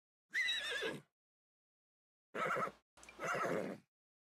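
A horse in The Sims 4 Horse Ranch gives three loud, close whinnies, one long neigh, then two shorter ones after a pause, with silence between.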